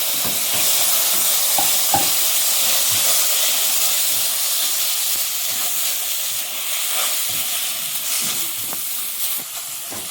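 Tomato fries in masala for white chickpea curry, giving a steady close sizzle and steamy hiss. Occasional spoon scrapes and stirring taps sound over the frying.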